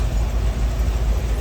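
A Gleaner L2 combine idling out in a soybean field, a steady low diesel rumble with a slight pulsing throb, close and unbroken, with no talking.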